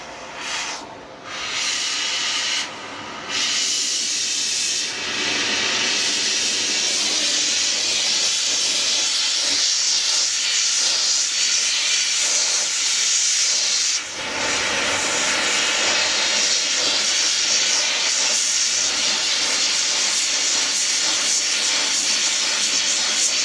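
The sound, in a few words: brazing torch hissing while brazing brass onto copper lantern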